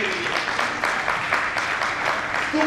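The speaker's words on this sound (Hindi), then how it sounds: "तालियां कमजोर है" Applause from a live audience at a comedy stage show in Jaipur, a dense even wash of clapping sustained for a few seconds with no voices over it.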